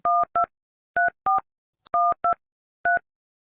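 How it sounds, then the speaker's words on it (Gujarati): Telephone keypad tones from a phone being dialed, seven clear beeps in short uneven groups with gaps between, near and alone with no talking. "લાઈન તો મને ફોન કરવા દે."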